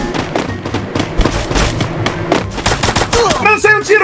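Rapid bursts of gunfire ring out in a video game 4v4 shootout, dense cracking shots and automatic volleys layered over game effects, with players talking excitedly underneath.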